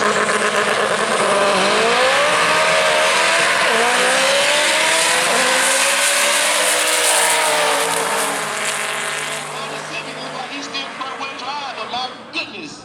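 Drag racing cars, including a fastback Mustang, launch at World Wide Technology Raceway with a loud, rising engine roar and shifting whine that fades into the distance while an announcer talks over it.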